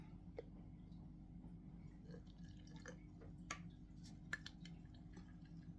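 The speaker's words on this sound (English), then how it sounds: "I'm going to add a little bit of water as well." A little water dripped into gecko food while mixing, giving a few soft drips and wet squishy ticks over a low steady hum, quiet and close.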